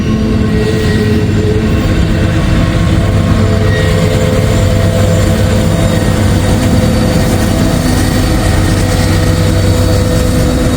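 A freight train rolls past with a rear DPU locomotive working hard, its loud, constant low engine roar mixing with wheel and wagon rumble throughout.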